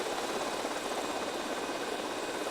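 A helicopter in the video game Grand Theft Auto Snow Storm, a steady whirring rotor and engine drone, constant and fairly loud with no talking.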